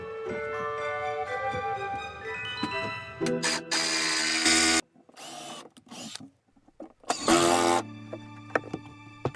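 Power drill driving screws into a van's kitchen cupboard, several short bursts of whirring motor separated by pauses, close and fairly loud, with quieter clicks and background sounds between the runs.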